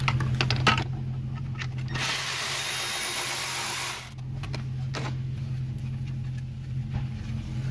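A 10mm bracket screw is driven out of an engine intake with a power tool, a loud steady whir lasting about two seconds over a constant low engine-bay hum, with faint clicks before and after.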